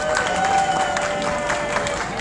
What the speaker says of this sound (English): Round of applause for Engineer Farhan